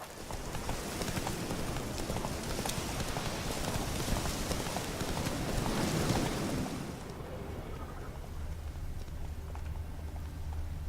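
The horse Roach gallops in a video game, a steady rushing clatter of hooves under wind-like noise that cuts off abruptly partway, leaving a low hum.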